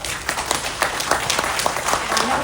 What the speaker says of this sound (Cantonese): 掌聲感謝佢哋。